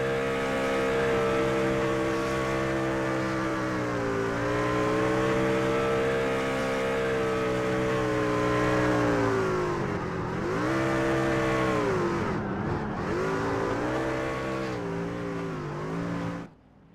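A race truck doing a victory burnout after a truck series race, its engine holding a loud sustained roar with steady harmonic drone, dipping and rising in revs near the end before cutting off abruptly.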